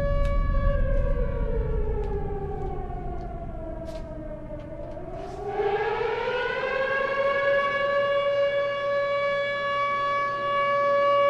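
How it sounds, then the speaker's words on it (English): A civil defense siren wails through a town, its steady tone dipping in pitch and then rising again to a loud, sustained howl with rich overtones. No voices are heard. "It's not every day you hear a siren go off"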